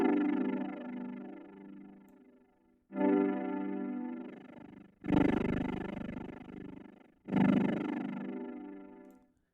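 Four sustained synth pad notes swell in one after another, each with a wavering LFO-modulated tone that slowly decays before the next begins.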